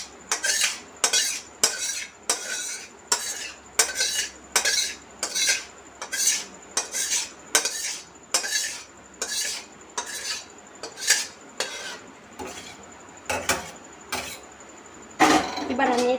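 Cooked mango pulp for aam satto is poured and spread across a plate with a utensil, producing a regular series of scraping, clattering strokes about once a second, close and distinct, with no talking over it.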